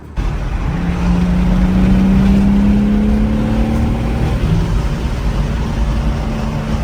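A turbocharged 2021-up BMW M3 engine revs hard and rises in pitch, then holds a loud, droning roar nearby for several seconds with no talking over it.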